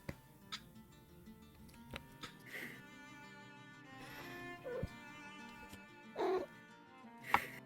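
A cat meows and caterwauls in a few separate drawn-out cries spread across the stretch, mid-distance and moderately loud, over a faint ticking background with no speech.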